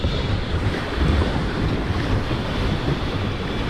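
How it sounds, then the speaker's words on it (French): Strong 20-knot wind roars across the microphone over rushing water and waves, a constant heavy buffeting aboard a sailboat sailing upwind on the open Mediterranean Sea. "on est au près avec 20 nœuds de vent, donc ça bouge pas mal"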